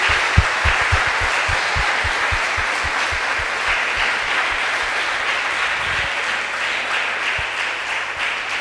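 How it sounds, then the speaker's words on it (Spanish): A church congregation applauds loudly during a sermon. The clapping fills the room in a steady roar for several seconds, and a low rhythmic thumping runs underneath it early on. "¿Cuántos le dan ese aplauso bien fuerte a Jesús?"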